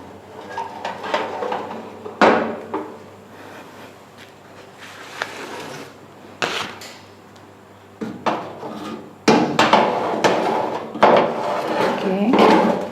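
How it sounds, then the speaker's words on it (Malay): An almond crunchy tray is slid into a home oven with clattering metal knocks, a door clunk and rattling handling in bursts, close by in a kitchen. "sekarang kita masukkan ke dalam oven"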